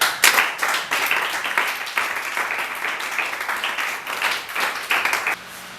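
Church congregation applauding and cheering to acclaim God during a French-language worship service, dense continuous clapping with voices mixed in, fairly loud and sustained before dropping off near the end.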